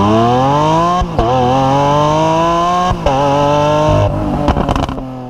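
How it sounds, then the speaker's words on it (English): Lamborghini Aventador S V12 engine revving hard, a loud, close, harmonic-rich howl that climbs through gears with brief shift breaks, then crackles and pops as it backs off. "the best part about the Lamborghini Aventador S is the way that it sounds"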